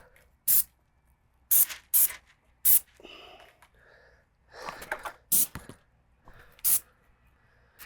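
Airless paint sprayer spraying around masked pipes, heard as several short, sharp hissing bursts at close range with quieter scraping and handling sounds between them, no talk.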